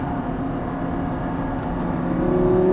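A Lamborghini Gallardo LP550 pulls hard on a racing track, its engine a steady, loud drone that climbs in pitch and grows louder toward the end as it accelerates.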